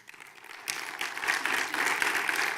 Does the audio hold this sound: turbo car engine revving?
no